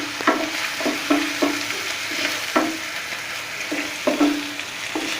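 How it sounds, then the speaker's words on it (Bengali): Onions frying in salted oil sizzle softly in a pan, broken by repeated scraping strokes of a spatula as they are stirred, close by with no talking. "আমি পেঁয়াজটাকে একটু ভেজে নিচ্ছি।"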